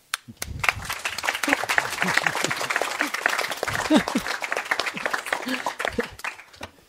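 An audience applauds seminar speakers at the close of a policy talk, a dense burst of many hands clapping that starts abruptly, holds steady for several seconds, then thins out and fades.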